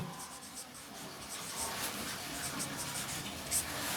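Pen or chalk writing during a class-10 maths lesson makes a continuous close scratchy scraping with small strokes and taps, with faint talk in the background.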